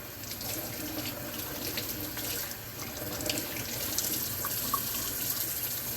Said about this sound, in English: In cold water, take the fillet and rinse it.